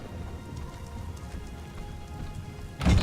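Rain falling in Diablo III, a continuous soft patter and hiss at moderate level, then a sudden louder low rumble near the end like thunder from a lightning strike.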